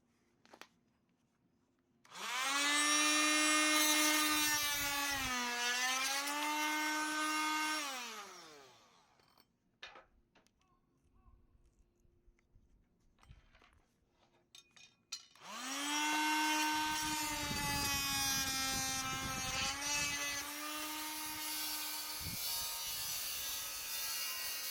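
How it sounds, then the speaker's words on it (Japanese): An electric drill whirs loudly in two long runs during renovation work on an 80-year-old Japanese farmhouse, its motor pitch rising and dipping, with quiet clicks and handling noises between them. "いやもう久々でドリル全然使えへん"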